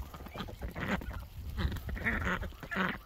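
Ducks, including a large domestic duck among wild ones, honking and quacking nearby in a series of loud, rough calls that come in irregular bursts with short gaps between them.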